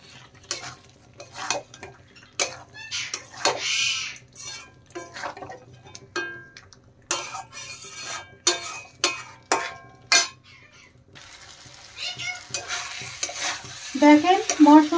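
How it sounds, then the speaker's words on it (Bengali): Fried paneer is stirred with spices in a pan, with a spoon scraping and clinking against the metal in irregular bursts over a low sizzle. A louder frying hiss rises near the end. "দিয়ে দিলাম ভেজে রাখা পনিরগুলো, দিয়ে মশলার সাথে একটু কষিয়ে নেব"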